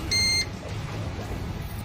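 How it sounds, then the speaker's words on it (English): A single short electronic beep, like a backup-power alarm after a home power outage, sounds once near the start and then gives way to faint indoor room noise. "I apologize for the beeping."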